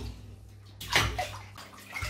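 Toy dolls being lowered into a bath of water make a soft slosh and splash, with one fuller splash near the middle and gentle water movement around it, close and moderately quiet.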